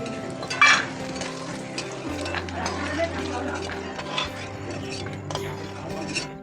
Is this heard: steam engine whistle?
no